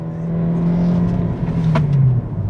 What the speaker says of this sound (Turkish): Mesela motor bunun gibi yokuşlarda falan yani basıyorsun bayağı atik